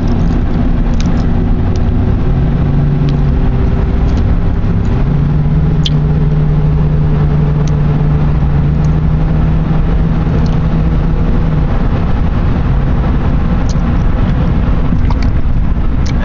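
A 2000 Ford Crown Victoria cruises on a highway at around 55 mph, giving a loud, steady drone of engine hum and road and wind noise throughout.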